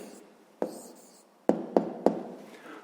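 A pen marks paper by hand while an answer is written down, producing four sharp taps and short scratching strokes in a quiet room, close and distinct.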